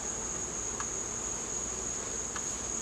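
Constant high buzzing drone of many honeybees close by at an opened hive, steady and unbroken, with no voices.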